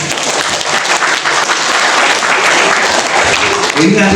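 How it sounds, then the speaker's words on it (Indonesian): Audience at an Islamic study session on obligatory and voluntary prayer breaks into sustained, dense hand clapping that stays loud and steady throughout, with no talk over it. "Tepuk tangan dulu."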